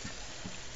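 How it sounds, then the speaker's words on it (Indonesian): Sweet and sour tomato sauce simmering in a pan for a rollade, giving a steady, low bubbling and gentle sizzling hiss that stays even and fairly quiet throughout the short moment. "Nah, kita biarkan dia mendidih dulu guys."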